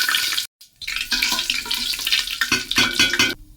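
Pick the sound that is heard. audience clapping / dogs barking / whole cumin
whole cumin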